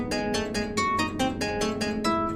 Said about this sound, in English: And now here comes the theme in the bass again with the proper inversion